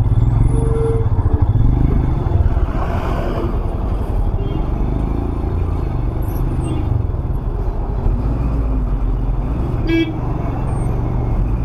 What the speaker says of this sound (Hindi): बहुत ज़्यादा ट्रैफिक।